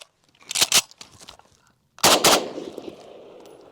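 An FN FNC rifle fires two sharp, close bursts of shots about a second and a half apart, with a brief mechanical clatter of a reload between them and echoing tails after each.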